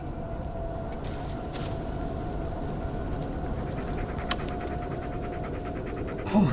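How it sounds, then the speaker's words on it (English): Bullet, the dog companion in the video game Blair Witch, pants in a steady, rapid rhythm close by, over a constant low ambient hum from the game, with no talking. "Yeah, good dog."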